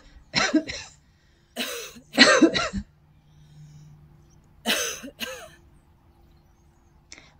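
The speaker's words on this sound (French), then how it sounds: "Et toussez 3 fois pour évacuer les stagnations d'énergie au niveau respiratoire." Three sharp coughs spaced across a few seconds during a Qi Gong breathing exercise, close and clear, with a soft low hum and quiet breathing between them.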